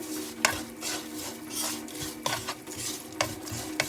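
Salt is stirred into a dried tuna and coconut sambal, a spoon scraping and tapping against the pan in repeated short strokes over a faint sizzle, close up and with no talking.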